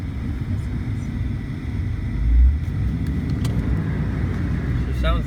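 A 1991 Lincoln Town Car with a 4.6L V8 and a bad transmission, engine idling with a steady low rumble, heard up close with a slight swell midway and no speech over it.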